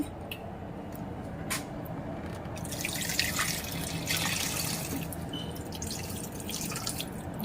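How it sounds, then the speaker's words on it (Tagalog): Water poured into a pan of marinating chicken adobo, a continuous trickling and splashing stream that grows a bit fuller midway, heard close and moderately loud without talk. "Lagyan ko ng tubig."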